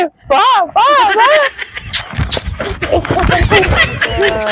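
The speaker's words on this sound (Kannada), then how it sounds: "ಗಾಡಿ ಚಲೋ ಮಾಡ್ಲಿ" A vehicle being started amid voices: wavering squealing cries at first, then a rough, rattling engine churn that catches and keeps running, with people talking over it.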